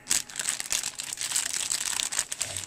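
Plastic packaging around Silverline CR-V combination spanners being cut open, giving a close, continuous crinkling and crackling of plastic with short sharp snaps, no talk.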